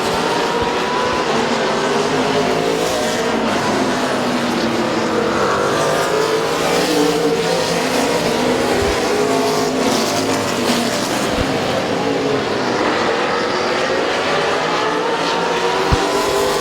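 Race cars roar around the speedway oval at Midvale Speedway, a dense continuous engine drone from several cars lapping together, loud and steady throughout with no talk over it.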